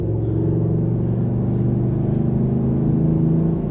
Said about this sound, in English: this thing definitely sounds really nice. Nice rumble to that V8.